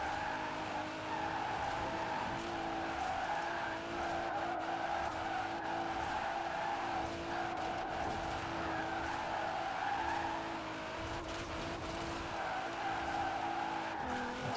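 A GTR car slides sideways in the Forza Horizon 4 racing game, with sustained tire squeal and skidding over a steady engine drone, loud and continuous for the whole stretch.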